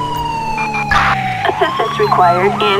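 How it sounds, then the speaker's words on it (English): A police siren from the GTA V LSPDFR police game wails steadily throughout, its rising and falling tone running under radio dispatch chatter and excited talk. "Don't mind the CHP siren."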